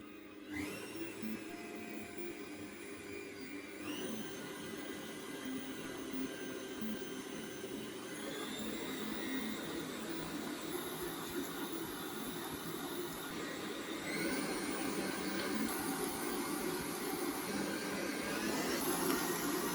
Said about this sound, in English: When you obtain a smooth creamy paste, stop the food processor.